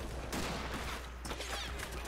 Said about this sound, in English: You see so many bullets just whiz by them.